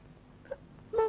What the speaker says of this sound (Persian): تو رو خدا گریه نکن